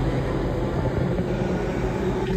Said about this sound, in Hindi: एक मिनट में आने वाली है हमारी मेट्रो।